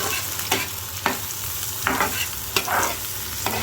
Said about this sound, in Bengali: তো ধৈর্য ধরে আস্তে আস্তে পেঁয়াজগুলোকে একদম বেরেস্তা করে নেওয়া লাগবে